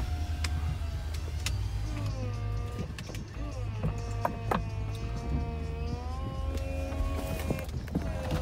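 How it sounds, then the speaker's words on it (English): The power convertible top of a 2016 Mercedes-Benz SLK 300 opening, with a steady electric motor whine and shifting mechanical tones, plus clicks and thumps as the roof panels move, while a person talks over it. "Top opens up, power convertible top."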